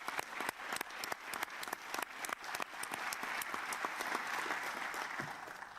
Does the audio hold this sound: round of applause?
yes